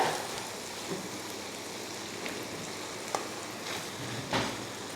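Cooked rice tipped into a pan of spicy egg and chicken gravy and stirred, giving a steady soft sizzle with a few scraping stirs, close and alone.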